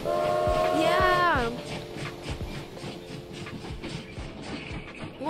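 A train in the Minecraft video game, a Harry Potter role-play server heading to Hogwarts, sounds a long whistle at the start, followed by a steady rolling rhythm of wheels on rail with a regular clacking beat. People talk over it.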